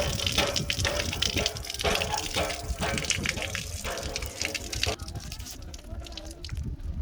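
A hand-operated water pump at a drinking-water well gushes water in a strong, continuous splashing rush with rhythmic surges, while someone talks over it nearby.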